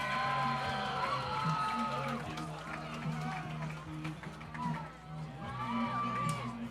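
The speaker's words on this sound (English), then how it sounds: "We got to give a big cheer for these guys." Spectators at a blue marlin fishing tournament weigh-in cheer and whoop for the anglers, a steady crowd roar that swells near the end, with talk running over it.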